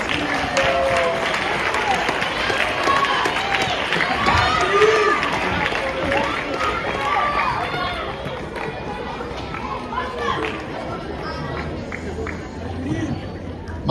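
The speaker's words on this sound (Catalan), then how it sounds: "anem a fer un aplaudiment" Audience applause for third-year ESO students at a charity concert, a broad steady clatter of many hands lasting the whole stretch and slowly tapering, with crowd chatter mixed in.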